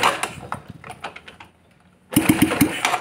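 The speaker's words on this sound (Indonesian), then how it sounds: "Di engkol nggak ngelos-ngelos lagi." A Yamaha Jupiter Z motorcycle engine kicked over by its starter lever, once a faulty slipping kick-start, giving a few quick close thuds of cranking before a short pause and then a louder burst of engine noise.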